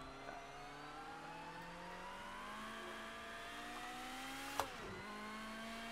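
A Porsche race car with a flat-eight engine, driven in Project CARS 2, drones steadily at moderate distance, its pitch climbing gradually as it accelerates through the gears, with a brief sharp click near the end.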